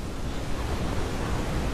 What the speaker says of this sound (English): Oh my god, tornadoes! Water tornadoes!